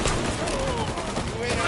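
Game gunfire from a PS4 title, a dense continuous fusillade of rapid shots with steady loudness and voices shouting over it.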